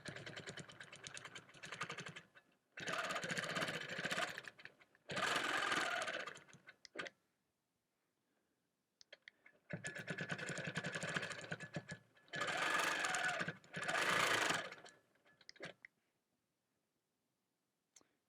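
A sewing machine set to about 12 stitches per inch is stitching in the ditch on a quilt. It runs in several short humming bursts of a second or two each, with pauses of near silence between them.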